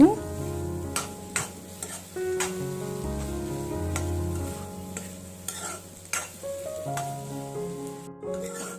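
Egg bhurji with chili powder and garam masala sizzles in a pan while being stirred, steady frying hiss broken by repeated clinks and scrapes of a spoon against the pan, close and moderately loud.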